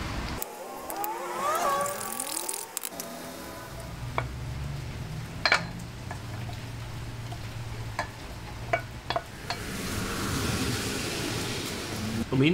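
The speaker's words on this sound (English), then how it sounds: "So it's now absolutely pouring." Heavy rain pours outdoors in a steady hiss with scattered sharp drip ticks. Brief vocal sounds occur early on, and the rain grows louder toward the end.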